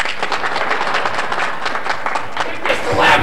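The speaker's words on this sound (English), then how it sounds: "And let's all clap and hope that she ain't gonna be here tomorrow." School senior show audience breaking into lively clapping, a loud continuous patter of many hands with crowd voices underneath and a rise toward the end.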